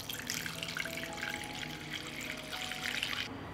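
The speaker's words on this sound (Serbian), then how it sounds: "I nalićemo vodu do visine poklopca." Water runs steadily from a tap into a pot holding jars for pasteurizing, a cloth on the bottom, as it fills to lid height; a continuous close rushing with no talk.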